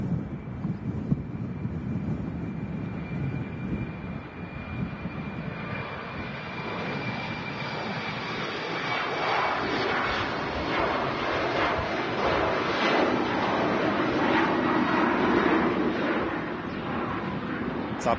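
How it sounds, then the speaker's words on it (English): A TAP Air Portugal Embraer jet departs Manchester Airport bound for Lisbon, a steady broadband engine roar that swells and grows louder toward the end, with a thin whine running through the first half. "TAP Air Portugal Embraer on the way out to Lisbon"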